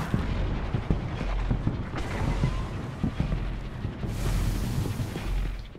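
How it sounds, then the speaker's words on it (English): Constant gunfire and explosions from the video game Destiny, loud and dense with repeated sharp reports and booming blasts layered over a steady rumble, with no voices. "That's some shooting that you got there."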